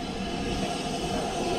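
A heritage railway train rolls past on the line below a bridge, a loud continuous rumble of wheels and carriages with no talking.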